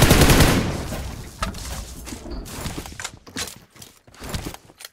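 M416 rifle fire in PUBG: a dense burst of automatic shots up front, then scattered sharp single cracks and short bursts at close range.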